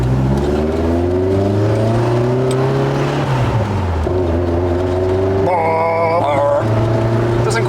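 Lotus Esprit engine revs hard and loud up close, its pitch climbing, dipping, then rising again in sustained throaty bursts with no talk over it.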